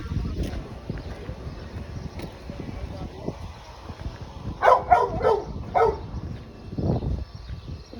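A dog barks in a short cluster of sharp yaps at moderate distance, heard outdoors during a walking tour on Tangier Island amid wind and background chatter.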